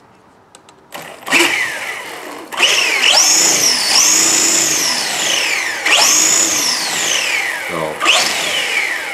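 Hot Bodies D413 RC car's electric motor whining up and down in repeated rising and falling bursts during a test drive, fairly loud and close, with a brief spoken word at the start.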